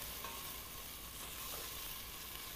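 Onion fries and sizzles steadily in a pan during a vegetarian cooking demonstration, a constant hissing crackle with faint stirring and no talk.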